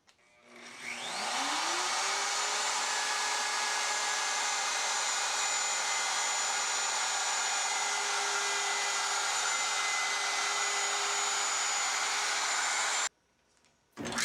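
A router spins up and cuts a rabbet in cabinet panels, giving a loud, steady high-pitched whine with a rising start. It runs unbroken for about twelve seconds, then stops abruptly.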